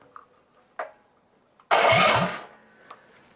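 An electric-start big-tire bike engine cranks and catches with a loud, rough burst of about a second, then dies back down. A few quiet clicks and knocks come before and after it.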